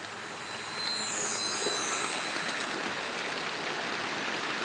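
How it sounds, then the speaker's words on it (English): A model train runs steadily along its track on a layout, giving a continuous rolling, rushing noise with faint metallic squeal, close and even in loudness throughout. "Matt, I'm still stuck on what steam locomotive to run."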